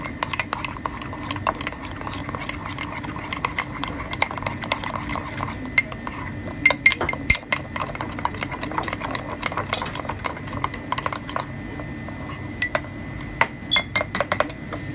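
Microwave cake batter being stirred in a bowl: a steady run of clinking and scraping as a spoon knocks against the sides, close and fairly loud with sharp taps throughout.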